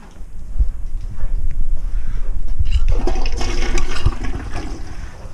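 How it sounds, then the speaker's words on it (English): A toilet flushing during a main sewer clog job, a loud close rush of swirling water that builds after a few seconds and drains away, with some knocks and thumps along the way. "Flush that one more time."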